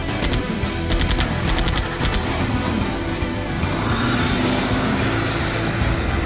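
A car starting and driving off in the Runaway 3 adventure video game, a steady engine roar mixed with bursts of gunfire and game music, loud and continuous throughout.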